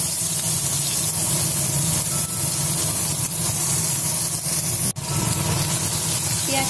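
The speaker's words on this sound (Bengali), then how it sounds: "পেঁয়াজ কুচি আমি 1 মিনিটের মতন ভালো মতো ভেজে নিচ্ছি" Chopped onion frying in hot oil over high heat gives a loud, continuous close-up hiss and sizzle that stays steady throughout, briefly broken by one sharp dip.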